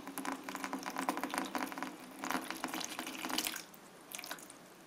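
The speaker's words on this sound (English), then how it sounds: "There's our pumping." A small water pump pushes water through a hose into a windshield wiper fluid jug, giving a close, bubbly gurgling and splashing stream that pulses in bursts, then drops to a quieter trickle near the end.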